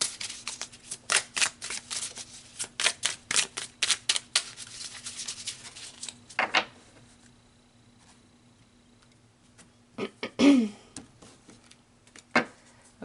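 Tarot cards pulled and shuffled close by, a quick run of crisp riffling taps and flicks for several seconds, then a quieter pause and a few scattered slaps and card snaps.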